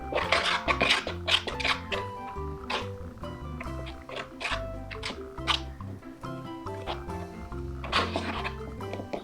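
Kinetic sand slime being mixed by hand, a run of close, wet squishing and sticky clicking sounds in irregular bursts, with no talking.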